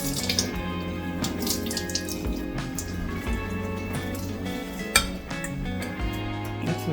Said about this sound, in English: We're going to get rid of the excess water from the bread. We're going to try and squeeze it all out.